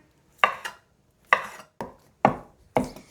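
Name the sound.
rough chopping cooked chicken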